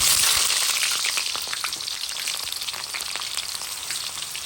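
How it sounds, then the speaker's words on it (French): Onions frying in a pan for a Réunion-style fish and greens dish, a steady close sizzle with dense crackling pops throughout, loudest at the start and easing slightly. "Là, je vais chauder les oignons."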